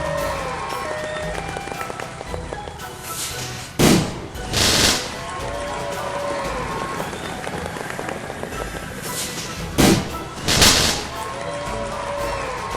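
Fireworks during a parade in a children's game, heard as two sharp bursts of crackling pops separated by a few seconds, set over steady bright game music with sweeping tones.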